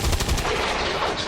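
Gunfire in the strategy video game XCOM 2: a short, loud burst of rapid automatic shots crackling close up, alone with no talk.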